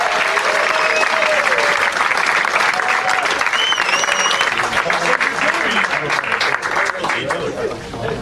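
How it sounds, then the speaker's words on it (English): Warm audience applause greets George Takei at a celebrity roast, dense sustained clapping with scattered whoops and cheers, gradually thinning toward the end. "Please give a warm round of applause for our good friend"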